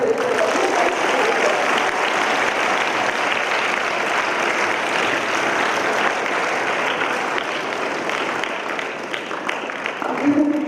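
An audience at a youth gram sabha at a school in Kolar claps without a break, dense applause that stays loud and steady before thinning near the end.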